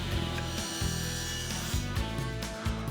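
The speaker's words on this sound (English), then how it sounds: "I used a regular saw blade, set to 30 degrees, and made a bevel cut at both ends of both rails." Regular saw blade tilted to 30 degrees making bevel cuts across the ends of wooden book-rack rails: a steady, loud, humming whine runs throughout, dipping briefly several times as the blade bites into the wood.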